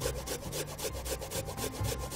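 Fresh ginger root scraped back and forth across a grater in a kitchen, a steady rhythmic rasping of about eight strokes, close and moderately loud with no talking.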